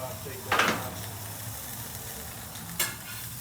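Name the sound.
burger patties frying in a pan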